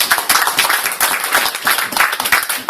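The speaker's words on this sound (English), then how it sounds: "So I think an extra round of applause just for that." Loud, dense applause from a crowd, steady rapid clapping filling the whole stretch with no pauses.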